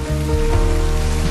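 Steady, dense rain pours close by, a continuous loud hiss that does not let up, with a low tonal hum running underneath.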